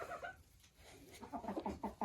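Hen of an ordinary breed crossed with an Ameraucana rooster, clucking in a coop: a brief call, a short pause, then a rapid run of close clucks.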